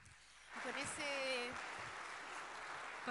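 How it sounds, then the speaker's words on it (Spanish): Applause at an international seminar on artificial intelligence and higher education, thanking a participant; a moderate wash of clapping rises after a short lull and carries on steadily while a voice speaks over the start. "con este aplauso le agradecemos a Ariana por su participación"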